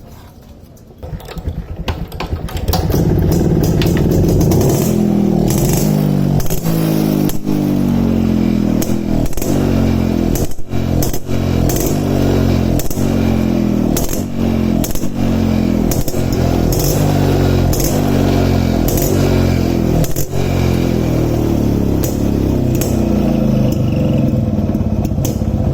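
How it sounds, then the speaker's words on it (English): A Yezdi D250 Classic motorcycle kicks into life and settles into a loud, steady idle with a rapid mechanical clatter and evenly spaced beats, running alone close by for over twenty seconds. "So let's start the motorcycle now"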